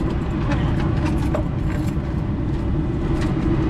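An RV rolls past at a rest area, its engine and tire rumble steady and loud across the whole stretch, with broadband road noise and no clear speech.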